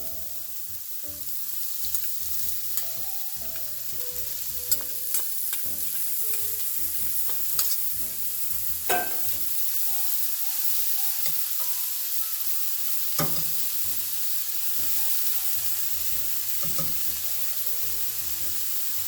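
Broccoli stir-frying with chicken and carrots in a pan, a steady close sizzle with repeated stirring scrapes and clatters throughout.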